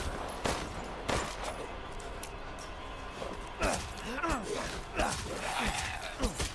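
Gunfire in the survival horror game Resident Evil Village: a handful of sharp, loud shots spaced irregularly across the clip over a steady game backdrop, with a voice audible between the shots.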